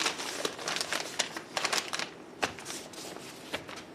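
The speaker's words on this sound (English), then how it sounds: "fold this out, that little paper flange" Dry crinkling and rustling of the paper flange on a fiberglass insulation roll being folded out, a series of quiet, irregular crackles close by.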